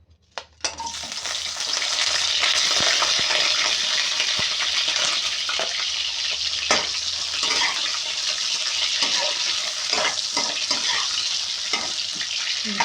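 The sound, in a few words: onion sautéing in cooking oil in frying pan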